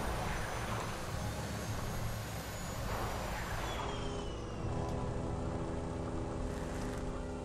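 Engine roar of an aircraft in Borderlands 2 dominates, a dense rumble with a whining tone that sweeps downward near the middle before settling into a steadier drone, loud and close.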